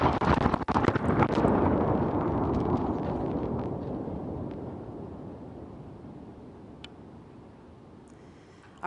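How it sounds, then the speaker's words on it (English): A loud, sudden blast in Nashville, recorded by a security camera, opens with a deep rumble that slowly fades over several seconds, heard from a distance with faint noises trailing off. "you will see the explosion as it takes place"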